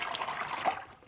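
Water poured into a plastic bucket to make a dye bath, a short, soft splashing trickle that fades out after about a second.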